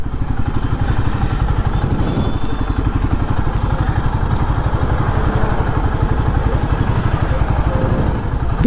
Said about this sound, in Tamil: What a beautiful engine guys.